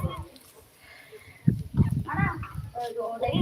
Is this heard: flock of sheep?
yes